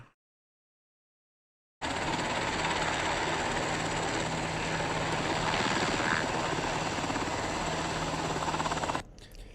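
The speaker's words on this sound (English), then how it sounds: "Training tonight included a dozen military helicopters at the Capitol." A dozen military helicopters fly over the Capitol in Washington DC during a nighttime training drill, a steady loud rotor drone that starts abruptly after a short silence and holds for about seven seconds before cutting off.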